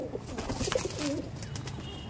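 Soft, rolling coos come from tournament racing pigeons entered in an all-India flying contest, a few low calls close by over steady background noise.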